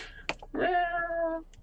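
A pet cat lets out one drawn-out, close meow lasting nearly a second, preceded by a couple of sharp clicks, with no talking.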